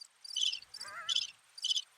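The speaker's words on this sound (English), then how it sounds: "That cricket stopped chirping." Cricket chirping in quick high-pitched trills, four short bursts spaced across the moment, with a faint warbling tone between them and no talk.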